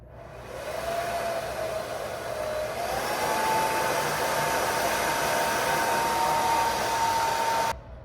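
A hair dryer blows while styling hair, a loud, steady rushing hiss and a faint whine, running continuously before cutting off abruptly near the end.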